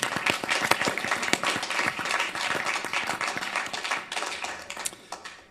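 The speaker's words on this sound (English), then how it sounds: "So could we just give a round of applause for this wonderful effort?" A round of applause at a city council meeting, with fairly close, distinct claps from a modest group forming an irregular patter that gradually thins and fades out.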